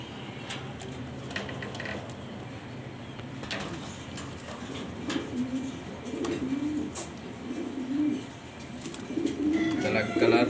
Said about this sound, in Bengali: ব্ল্যাক কালার ড্যানিশ কবুতর, নর কবুতর